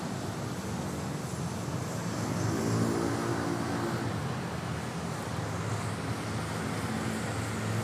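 Airbus A321neo arriving at Manila Airport, a broad steady roar of jet engines with a slight swell in the middle, heard at some distance and without talk.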